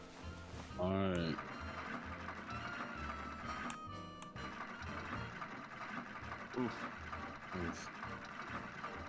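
Sewing a dress in the game Nancy Drew: Secret of the Old Clock, a mechanical whir and rapid ratcheting clatter of a sewing machine in short bursts, with a brief vocal exclamation near the start.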